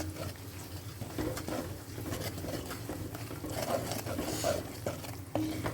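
Turmeric and garam masala powders are stirred and roasted in a pan over a low flame, giving soft, continuous scraping and light sizzling patter with occasional clinks, close and alone without talk.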